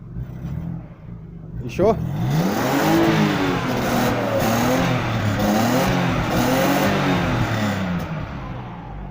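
An Opel Omega B 3.0 with a modified 2.5-inch exhaust revs loudly up close, several swelling blips rising and falling over a steady idle rumble, with brief talk at the start.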